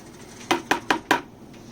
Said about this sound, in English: Stir it around a little bit